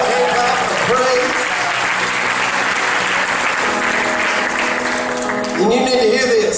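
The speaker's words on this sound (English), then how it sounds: "somebody give the Lord a hand clap of praise" A church congregation claps in praise, sustained dense applause filling the room throughout, with voices and music tones carrying over it.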